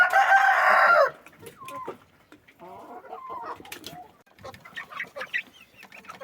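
Two-and-a-half-month-old chickens cluck and chirp close by, opening with a loud rooster-like crow for about a second, then scattered short clucks and calls in an uneven rhythm, with no talk.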